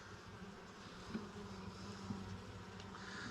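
Honey bees humming around an open hive, a faint, steady low drone with occasional slightly louder passes from individual bees.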